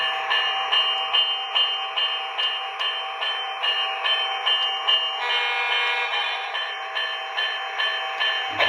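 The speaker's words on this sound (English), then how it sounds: "There's the bell." A model train's electronic bell rings steadily in rapid, evenly spaced metallic dings, close and fairly loud, with a faint thump near the end.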